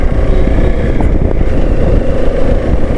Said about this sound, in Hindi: मतलब स्मूथ है इंजन, आराम से आप चल रहे हो